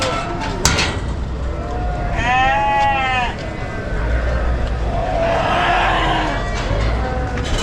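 Sheep bleat at a busy livestock market in Kadirli, Osmaniye, with several wavering calls rising over a steady crowd murmur and nearby chatter.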